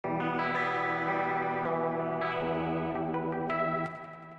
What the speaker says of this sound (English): it's a very, very, very soft reverb, but it glues things together a little bit